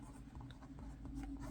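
Stabilo Woody 3-in-1 crayons dragged across paper in a steady series of soft, scratchy strokes, close and continuous, with no voices.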